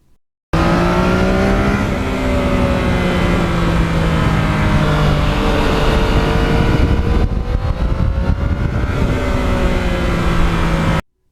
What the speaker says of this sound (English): when you combine the fun of the engine power band and the quick shifter